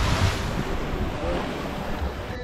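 A catamaran cruising on the open ocean along the western coast of St Lucia, with a steady roar of wind and water rushing past the hull, loud and continuous across the whole stretch.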